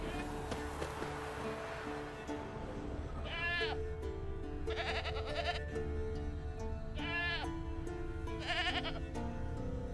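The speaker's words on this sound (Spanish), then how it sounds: "Mira, por ahí está la cabra." A goat in The Witcher 3 gives four distinct, wavering bleats, loud and close, spaced across the span over a steady game soundscape with a low musical hum, with no talk.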